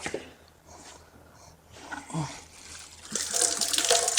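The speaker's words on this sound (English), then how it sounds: "I'm gonna rinse this other side." Water from a hose splashes over a horse as its side is rinsed, the hiss starting faint and swelling into a louder, steady spray near the end.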